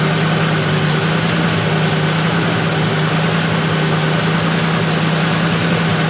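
A Range Rover engine idles steadily after its misfire is cured, a constant close rumbling hum with an even tone throughout and no voices.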